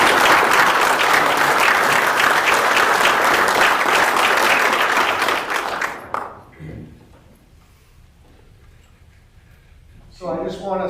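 Applause at an Army retirement ceremony fills a hall with sustained clapping for about six seconds, then fades to room quiet before a voice begins speaking.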